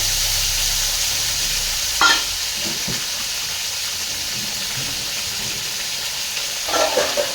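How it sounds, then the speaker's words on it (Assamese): Potato, capsicum and pointed gourd sizzle steadily in hot oil, with a loud constant hiss broken by a few scraping stirs and clatters. "এতিয়া তেলটো গৰম হ'ল মই আলু কেপচিকাম আৰু পটল দিছোঁ"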